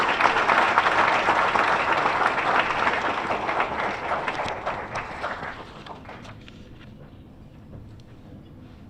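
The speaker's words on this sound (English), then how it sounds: "One more big round of applause for all these scholar athletes." Applause from an audience at a sports awards luncheon honoring scholar athletes: dense clapping that stays loud for several seconds, then thins out and fades to scattered claps.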